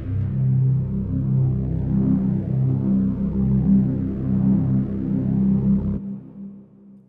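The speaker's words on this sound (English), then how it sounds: "low grumbly pad. It has an LFO on the filter there." Low, grumbly synth pad from the Surge XT software synthesizer, its filter swept by an LFO, drones steadily and fairly loud for about six seconds with slow wavering movement, then cuts off into a brief fading tail.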